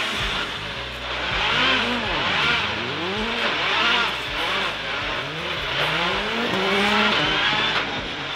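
A Citroën rally car drives hard, its engine note repeatedly climbing and dropping through gear changes in a loud, continuous, close run, with no speech.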